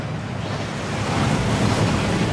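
A waterfall rushes inside the Gringotts vaults in Hogwarts Legacy, a dense, steady roar of falling water that swells slightly and fills the whole short stretch.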